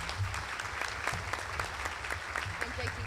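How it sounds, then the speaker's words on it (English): A breakfast audience at a convention center claps steadily for honored guests, a fairly distant, dense patter of many hands sustained throughout without a break. "Give them a round of applause."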